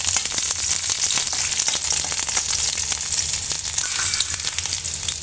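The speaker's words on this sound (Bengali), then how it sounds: "তো রসুনটা যেহেতু শক্ত, এই জন্য আমি রসুনের কোয়াটা আগে ভেজে নেব" Garlic cloves frying in hot oil for a cauliflower bharta, giving a loud, dense, continuous crackling sizzle that carries on without any talking.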